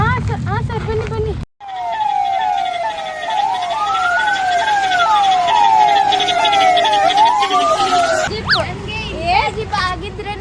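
Loud wailing ambulance siren cycling up and down for several seconds, close by, with brief voices before and after it.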